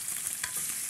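Food searing in a hot skillet, a steady close sizzle and crackle of frying with brief spitting pops, fairly loud and alone.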